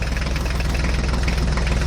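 A toy truck engine idling in a pretend jungle play scene, a loud, steady low rumble with an even pulsing throb, close by and continuous with no talking.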